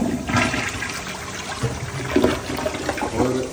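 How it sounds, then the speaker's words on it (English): A toilet flushes in a house during a walkthrough check, a close, rushing gurgle of water that swirls and drains over a few seconds. "Toilet flushes."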